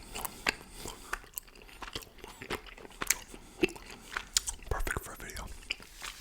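Soft, close chewing of firm, chewy fruity gummy candy, with irregular moist squishes and bites between whispered words.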